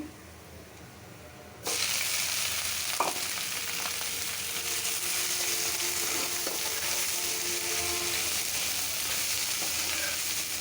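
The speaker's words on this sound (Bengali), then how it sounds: "শাকটা বাগা দিয়ে নিচ্ছি" Leafy greens (shak) hit a hot pan of oil for a Bengali hilsa dish, breaking into a sudden loud sizzle after a quiet moment and then frying in a steady, close hiss.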